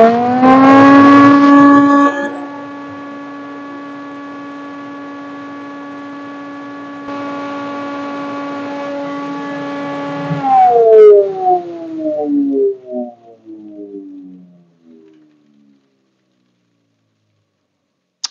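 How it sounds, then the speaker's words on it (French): An Einhell TE-VE 550 A shop vacuum hooked up to a jointer-planer hums with a steady, tonal motor whine for about ten seconds, then winds down with a falling pitch and fades to silence. "je viens de brancher l'aspiration à la Dego. Je vais juste tester le bruit."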